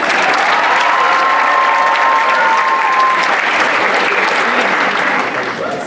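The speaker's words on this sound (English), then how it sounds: "Let's give them another round of applause." A large audience at an Arab cultural showcase applauds a round for performers, loud sustained clapping filling the room from start to finish with a faint crowd murmur underneath.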